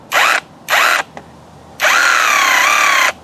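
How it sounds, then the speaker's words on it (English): Avhrit cordless hammer drill switched to chisel mode, whirring loudly in two short bursts, then a brief tap and a longer sustained run of steady high motor whine with no talking. "We're going to use it as a chisel, and we're going to be switching this over to chisel."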